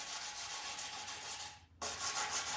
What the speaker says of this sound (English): So I'm just gonna hit it with a sander.